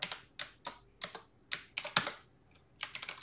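Someone types on a computer keyboard while writing Python code, producing quiet, close, irregular keystrokes in short bursts and single taps with brief pauses between them.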